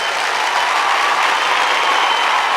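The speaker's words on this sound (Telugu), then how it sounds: "గివ్ ఎ బిగ్ క్లాప్స్ అని చెప్పి" Big audience applause at a Telugu film audio launch function, a dense, loud, unbroken roar of clapping that stays steady throughout.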